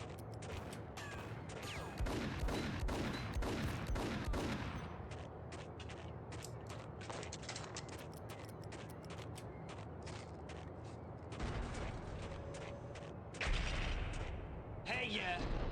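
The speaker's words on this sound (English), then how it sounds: "Oh, you're shooting at me." Sustained gunfire in the action game Max Payne, dense clattering volleys and single shots crowding together for long stretches, with brief pauses and talking over the shooting.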